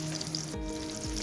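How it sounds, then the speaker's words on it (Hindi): Chapli kababs frying in oil in a pan, an even close sizzle with a couple of soft low thumps as pieces shift; no voices. "जो बाकी बचे हैं उनको हम फ्राई कर लेंगे"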